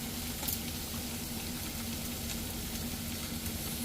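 Vegetables sauté in a hot pan with soy sauce for homemade Chinese noodles, giving a steady, close sizzle with a faint clink near the start.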